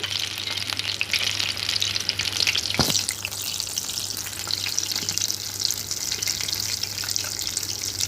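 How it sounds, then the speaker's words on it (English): Soya crispies dropped by spoon into hot oil over medium heat, giving a steady close, bright sizzle throughout, with one brief clatter near the middle. "So on medium heat, dropping all of this in the hot oil."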